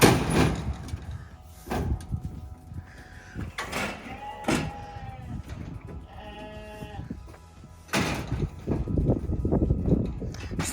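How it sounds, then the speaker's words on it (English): Side doors of a livestock trailer are worked open amid sheep waiting to be loaded, with metallic clanks, bangs and rattles at close range mixed with repeated sheep bleats. "Waiting for David to get the side doors open and get these sheep loaded up."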